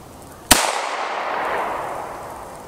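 A single sharp gunshot from a New England Firearms R73 revolver chambered in .32 H&R Magnum, firing Federal jacketed hollow point ammunition, cracks loudly and close, then its report rolls away in a long fading echo.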